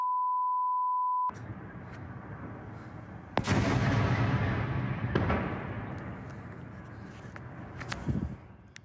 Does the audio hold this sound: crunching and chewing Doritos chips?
no